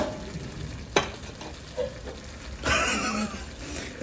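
Pinakbet vegetables with bitter melon stirred in a frying pan, a sharp clang of the utensil, then scraping stirs over a low sizzle, close by and without speech.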